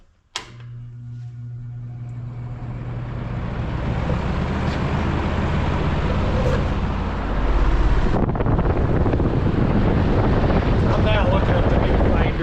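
Retro Penncrest box fan with a swapped motor running in reverse, starting with a sharp click and rising into a loud steady whooshing airflow roar with a low motor hum, shifting in tone partway through.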